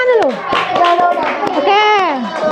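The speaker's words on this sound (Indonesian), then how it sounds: "Kasih tepuk tangan dulu" Schoolchildren in a classroom clap in scattered, sharp bursts while young voices chatter loudly over and between the claps.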